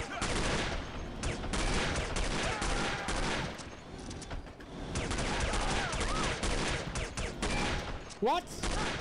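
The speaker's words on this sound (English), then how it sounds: "I was shooting him in the face for ages" Rapid, dense gunfire from the spy shooter video game The Operative: No One Lives Forever, sustained bursts filling the whole stretch with a few brief lulls, loud and close, with a voice over parts of it.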